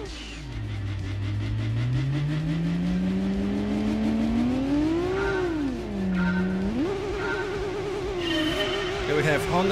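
Race cars in Gran Turismo 2 for PS1 pull away together at the race start, including a Honda, a Lotus Elise and a Mazda RX-7. One engine whine rises steadily through the gears, loud and close, with brief pitch dips at the shifts and a rougher tone near the end.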